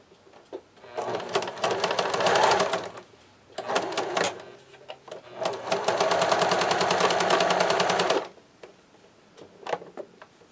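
A sewing machine stitches back and forth to lock the stitches, running in several rapid mechanical bursts of needle clatter, close and loud, separated by short pauses and a few isolated clicks.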